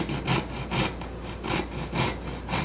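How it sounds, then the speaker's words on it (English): A hand tool gently trims wood close to the mahogany on an ES 335-style guitar, making rhythmic rasping strokes about twice a second, soft and close with no voices. "just trim it gently and as close to the mahogany as I dare"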